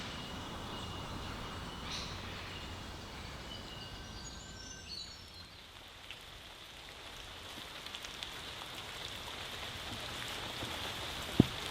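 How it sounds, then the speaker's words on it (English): Light rain patters softly and continuously on surfaces outdoors, a faint, even hiss with a few scattered drips and distant chirps, one sharper drop near the end. "It is raining"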